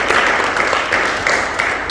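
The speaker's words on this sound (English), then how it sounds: "Give him a big round of applause" An audience applauds a participant named David during a talk on future skills, giving a dense, steady wash of many hands clapping close by for the full two seconds, with no voices over it.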